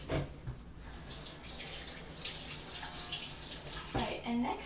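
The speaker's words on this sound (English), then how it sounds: "Let me give myself a quick wash." Hands are washed under a running sink tap in a home kitchen: a steady, close rush of water with splashing that shifts as the hands move, starting after a brief pause.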